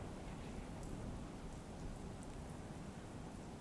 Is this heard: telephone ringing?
no